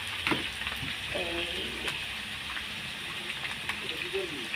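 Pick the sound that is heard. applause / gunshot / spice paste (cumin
spice paste (cumin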